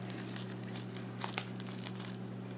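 Strips of slightly fibrous paper trimmed while folding a Danish Christmas star: a quiet, close crinkle with a few brief crisp snips clustered near the middle, over a low steady hum.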